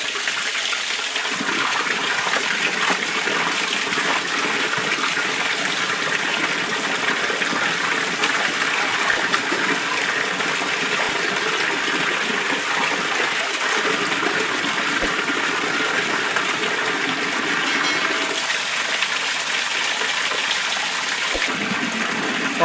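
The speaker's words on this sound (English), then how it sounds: "We are going to increase the water." Water gushing steadily into a catfish tank, a continuous loud rushing flow that keeps going with little change, with no voices.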